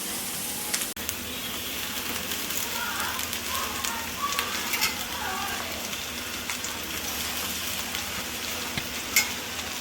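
Drumstick leaves sauté in a pan, making a soft, continuous rain-like sizzle with occasional stirring scrapes and a brief knock near the start.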